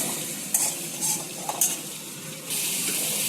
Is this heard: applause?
no